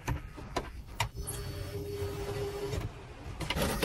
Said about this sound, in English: Another bolt on the pretensioner is tightened